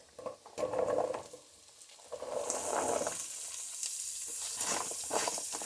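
Garlic, carrots, celery and onions for a beef stew sizzle in a pot, a soft, steady frying hiss with a few shuffling stirs on top.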